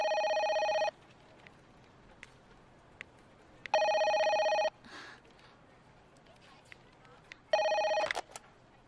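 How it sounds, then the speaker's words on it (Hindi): An electronic telephone rings in three evenly spaced bursts with quiet pauses between them, loud and close in an indoor room, with faint background sounds in the gaps. "हाँ राज, फोन है।"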